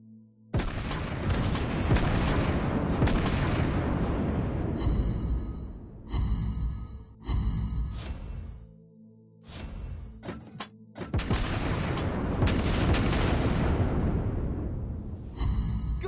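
Naval cruiser guns firing and shells striking an enemy ship in the World of Warships Blitz game, with the German tier 8 cruiser Prinz Eugen; loud booming blasts and crashing impacts come in several heavy bursts with brief pauses between.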